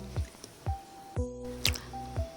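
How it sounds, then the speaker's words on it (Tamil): Mushrooms from a store packet are washed by hand in water, giving soft, wet squishes and drips that recur about every half second, close and quiet with no talk. "முதல்ல மஷ்ரூமை தண்ணியில நல்லா கழுவிறணும்"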